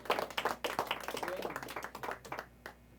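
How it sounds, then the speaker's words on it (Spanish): Church congregation clapping in sharp, uneven bursts that swell and thin out, the individual hand claps distinct and fairly close, with voices faintly underneath. "denle un aplauso al Señor si se lo va a dar"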